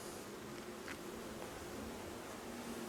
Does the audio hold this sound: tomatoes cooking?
no